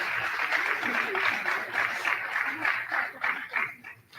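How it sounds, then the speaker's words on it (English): Crowd applause at a practical nursing pinning ceremony fills the space, a steady wash of many hands clapping at moderate distance with some voices underneath. "please give yourself a round of applause"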